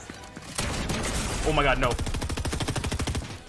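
Rapid automatic gunfire from a solo arena video game match, loud and sustained bursts with a fast rhythmic pulse through the second half, under a player's alarmed speech.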